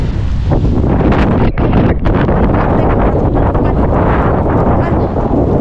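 Loud, constant wind buffeting the microphone, a dense roaring rumble with gusty fluctuations and no voices.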